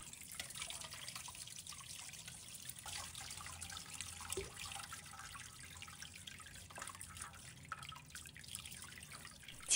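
A cleaned golden pompano is rinsed at a kitchen sink, with faint running tap water, soft trickling and scattered drips continuing steadily and quietly throughout.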